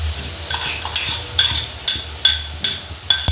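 Spoon stirring roasted tomato, chili and garlic into a Kathiyawadi eggplant mash (ringan no olo), a soft rhythmic scrape repeating about every half second, close and alone with a faint sizzle beneath.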